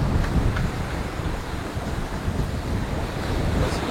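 Steady wind on the open sea aboard the Allagrande Mapei Racing yacht during The Ocean Race Europe, a constant broadband rush with washing surf close by and no talk.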